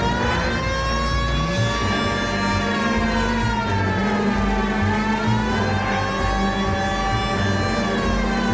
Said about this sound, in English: Use the goddamn siren.